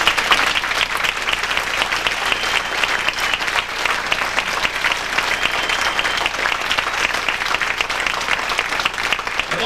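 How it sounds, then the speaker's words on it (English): Loud, sustained applause from a gathered crowd at MSJ honors its 1954 boys basketball state championship team, dense clapping close and steady for nearly ten seconds without letting up. "let's give a round of applause to MSJ's first state championship team in boys basketball"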